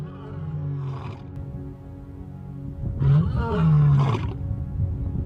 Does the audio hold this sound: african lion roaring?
yes